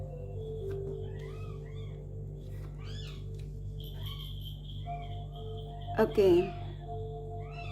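Newborn kittens give faint, thin meows at intervals over a steady background hum and insect-like chirping, while someone speaks softly nearby.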